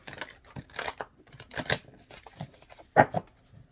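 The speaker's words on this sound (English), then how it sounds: "Let's start shuffling." A deck of cards is shuffled close up in several quick riffling bursts with short pauses between them, crisp and papery, with no talking.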